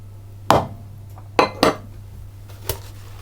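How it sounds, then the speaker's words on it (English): Utensil clanking against a bowl while butter and eggs are mixed into a thick batter for Nantes cakes, a few sharp close clinks with pauses between, no talking. "I just want to mix it until it all comes together into a nice thick batter or dough"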